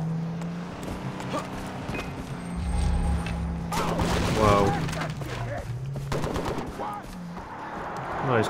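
Loud bursts of AK rifle fire from the Far Cry 3 video game ring out in the middle, sharp rapid shots over rumbling vehicle-like game noise, with a voice speaking over parts of it.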